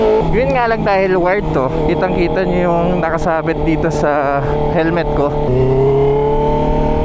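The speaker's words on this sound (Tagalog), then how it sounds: "yung tunog ng motor" A motorcycle engine drones steadily beneath continuous close talking while riding, picked up by a helmet-mounted Insta360 X4 camera with a wired microphone.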